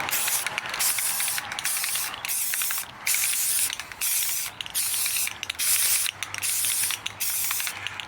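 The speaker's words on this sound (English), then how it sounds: "I'm spraying the mask with some water." Water sprayed in repeated short bursts onto a Jason Voorhees mask during final paint prep, a close, steady hiss broken by brief pauses between squirts.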